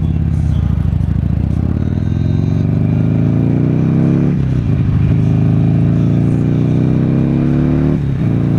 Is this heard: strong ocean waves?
no